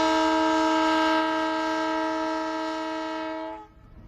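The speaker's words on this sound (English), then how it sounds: "This is the Livingstone-Mulobezi train covering a stretch of approximately 163 kilometers." The Livingstone-Mulobezi train sounds a loud, steady multi-tone horn blast, close and sustained for about three and a half seconds before cutting off abruptly, leaving faint background rumble.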